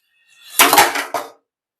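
Dishes and pots clatter as they are gathered up for washing in a home kitchen: a short, close burst of clinking and knocking crockery and metal, then a brief second clatter, with quiet before and after.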